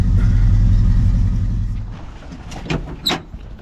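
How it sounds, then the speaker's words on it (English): A 1967 Ford Mustang engine with dual exhausts rumbles loudly up close, then the low drone fades as the car pulls away, followed by a few brief knocks and clicks. "I think sounds good with that duals on it."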